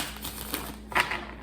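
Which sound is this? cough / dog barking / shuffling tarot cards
shuffling tarot cards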